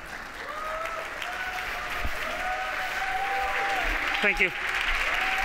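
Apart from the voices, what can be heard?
audience applause for an award winner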